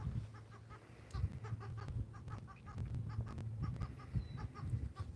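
Birds at a saltwater fishing spot, rapid clucking calls repeating in bursts over a low steady hum, fairly faint and without talk.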